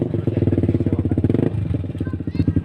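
A motorcycle engine runs steadily with a rough, pulsing idle, fairly close, with some faint voices mixed in.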